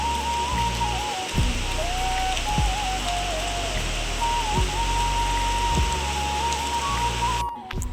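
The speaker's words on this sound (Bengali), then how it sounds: "আজকে কিন্তু ঝড়ের কোনো দাপট নেই তবে বৃষ্টিটা পুরা দমে হচ্ছে এখন" Heavy rain pours steadily at night with no wind, a dense, continuous close hiss and patter that holds level throughout before cutting off at the end.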